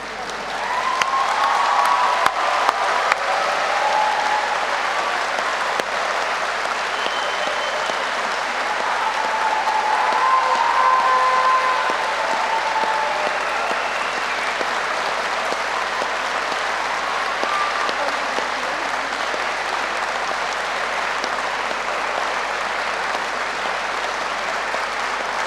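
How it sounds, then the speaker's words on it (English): Graduates at an afternoon graduation ceremony applaud and cheer their families and friends: a large crowd claps loudly and steadily for the whole stretch, swelling briefly partway through before settling into sustained applause. "to give them a round of applause and a big cheer"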